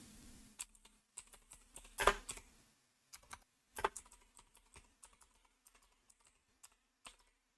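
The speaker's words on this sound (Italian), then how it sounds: "possiamo andare qui in alto nella barra e digitare Visual C++ Redistributable" Someone types on a computer keyboard in irregular bursts of close, crisp key clicks, with a few louder strikes and brief pauses between them in an otherwise quiet room.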